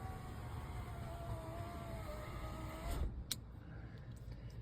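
Power window motor in the tailgate of a 2nd generation Toyota 4Runner hums steadily and close for about three seconds, then stops with a brief clunk, leaving a low background rumble.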